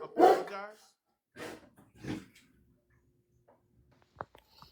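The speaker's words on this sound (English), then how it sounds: "I couldn't hear you over the dog barking." A dog barks indoors in a few loud, close bursts spread over several seconds, mixed with a person talking nearby.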